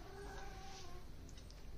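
A cat meows indoors, a faint, brief high cry heard near the end over a steady low background hum, with no voices present.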